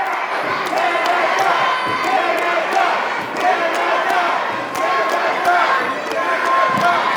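A crowd at a WKC world championship karate men's team gold medal match between Canada and USA chants and cheers continuously, loud and reverberant throughout, with rhythmic shouted bursts rising over the general roar.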